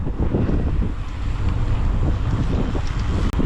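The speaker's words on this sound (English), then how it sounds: "It's very blowy, so we've got a freezing cold wind" Cold, blustery wind buffets the microphone during a bike ride, a loud continuous roaring rumble that never lets up, with no talking.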